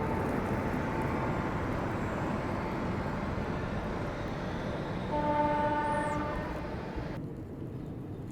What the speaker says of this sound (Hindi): ये मेरे ख्याल से हिमाचल एक्सप्रेस होगी।